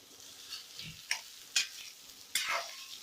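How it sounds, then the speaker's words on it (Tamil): Goat spleen sautéing in a pan, with a faint sizzle broken by a handful of sharp spatula scrapes and stirring strokes, fairly quiet and close, with no talking. "அப்படியே வதக்கிட்டு இருக்கேன்"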